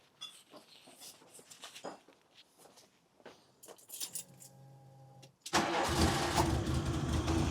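A VW MK2 Golf GTI engine warmed to 80 degrees: faint handling and key jangling, a brief starter whine, then the engine catches and settles into a loud, steady idle, with no voices.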